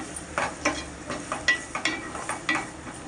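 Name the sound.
onions frying in a pan with salt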